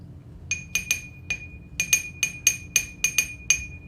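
A paintbrush rinsed in a glass water jar gives a quick series of bright, ringing clinks in an irregular rhythm, close and fairly quiet against low background hum.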